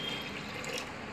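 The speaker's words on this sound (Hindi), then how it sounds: "हम इसमें करीब 1/2 लीटर पानी डालेंगे" About half a litre of water is poured into a pressure cooker holding chana dal, giving a soft, steady splashing pour that runs quietly through the whole short moment without any voices.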